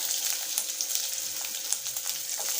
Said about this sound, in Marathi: तेल गरम झाल्यानंतर आता आपण त्यामध्ये घालणार आहोत बारीक कापलेले मिरचीचे तुकडे लसणाच्या पाकळ्या